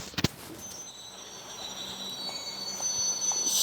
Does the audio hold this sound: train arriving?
yes